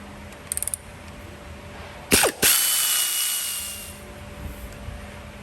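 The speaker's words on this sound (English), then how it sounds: "So I'm going to undo the 2 bolts that are up here and just remove this metal pipe from the turbo housing." A ratchet loosens bolts on a metal turbo pipe of a Chevrolet Cruze 1.4, with a quick burst of clicks followed by a louder whirring mechanical run that fades away.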